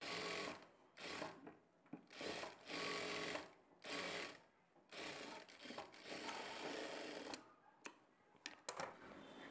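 A sewing machine stitches the side joints of a blouse in several close, loud runs of rapid needle chatter, each lasting a second or so, split by short silent pauses.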